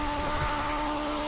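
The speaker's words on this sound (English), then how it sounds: "that stitchy sound is a bit of a glitch in project cars" A BMW race car engine in the racing game Project Cars gives off a glitchy, stitchy buzzing drone, a brief steady whine heard alone and fairly close.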